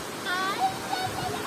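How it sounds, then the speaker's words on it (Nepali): Gaighat waterfall at Tarakhola, dried down to a smaller flow, gives a steady soft rush in the background while a person talks over it. "यो चाहिँ गाईघाट झरना है"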